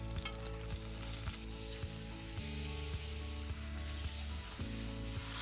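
Food sears and sizzles steadily in a hot pan, a continuous close frying hiss with a few light scrapes and knocks, no voices.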